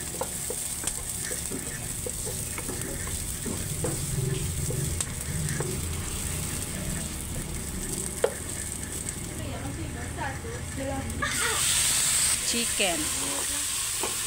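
Sliced chicken breast with spices browning in a pan, a steady loud sizzle with stirring scrapes throughout, rising to a brighter hiss near the end.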